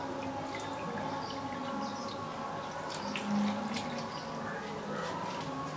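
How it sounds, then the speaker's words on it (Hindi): Water poured into a wok holding spinach leaves for palak soup, a steady running, splashing wash of liquid that swells briefly midway, continuous and fairly close with no voices. "कप पानी डालेंगे"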